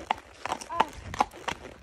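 Hooves of a horse carrying a rider clip-clop in a slow, uneven walking rhythm, several distinct close thuds over a quiet background.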